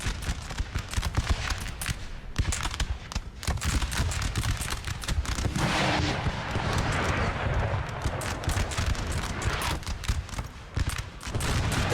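Dense artillery booms and crackling musket volleys in the Napoleonic battle game Napoleon: Total War, a continuous loud barrage of overlapping shots and blasts with no pauses.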